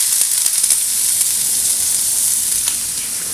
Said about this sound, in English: we're gonna add our onions right here